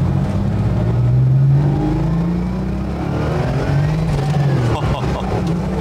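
A Porsche Turbo engine accelerating on the road, loud and close, with a rising whine that climbs through the gears and a steady roar underneath, and a voice speaking over it.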